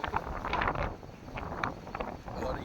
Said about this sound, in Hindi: लेकिन इस वक्त भी हवा चल रही है